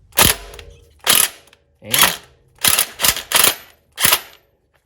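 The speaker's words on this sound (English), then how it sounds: "I'm grabbing my Craftsman impact, and again, I'm going to loosen that bolt" Craftsman impact wrench loosening a timing belt bolt on a Toyota Camry 2.2L engine, heard as several short, sharp hammering bursts close up, separated by brief pauses, with the bolt breaking free.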